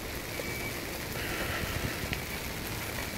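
Steady rain falls on surfaces in Kusatsu, Gunma, an even, dense patter of drops that stays close and constant with no one speaking.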